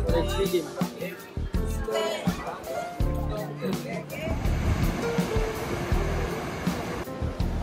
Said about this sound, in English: the waves are like insane. They're really big